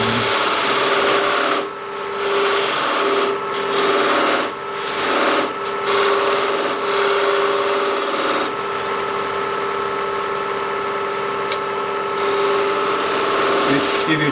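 A lathe turns a natural edge wood bowl blank while a tool cleans up its edge: a close, loud whirring rasp with a steady hum, broken by repeated scraping bursts as the cutter bites and lifts off.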